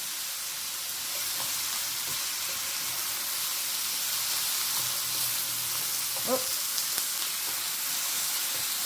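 Sliced green pepper and cabbage frying in a pan over low heat for niku yaki udon, a steady soft sizzle and hiss with a brief stirring scrape near the end.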